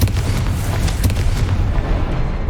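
A fire spell explosion from the video game Hogwarts Legacy, a loud, deep, rumbling boom that fills the whole moment and then fades with a crackling tail.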